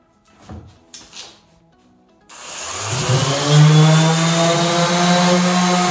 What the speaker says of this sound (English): I'm gonna be using 220 grit to go over it, and just with my sander.